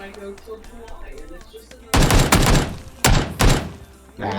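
Bursts of gunfire from a PP-19 Bizon and an AK in PUBG, two dense, loud volleys of rapid shots that break in after a stretch of quieter sounds, with a voice talking in the background.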